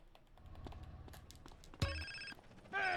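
A phone rings in GTA San Andreas, with a bright electronic ringtone breaking in after quieter game sounds, then a second louder tone near the end, no voices.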